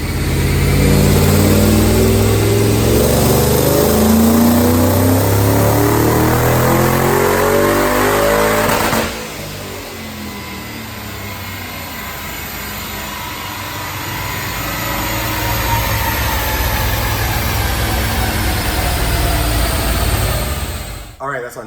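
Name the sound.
supercharged Mustang engine on a dyno pull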